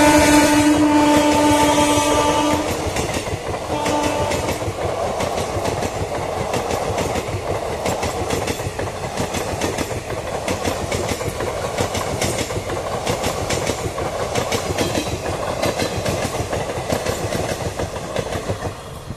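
Indian suburban trains pass near Kalyani railway station, a long continuous rumble with steady clickety-clack of wheels over rail joints, opening with a horn blast before the rolling noise carries on loud and close.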